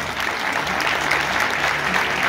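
At a municipal award ceremony honoring municipal workers, a crowd claps steadily and loudly throughout, a dense and continuous round of applause.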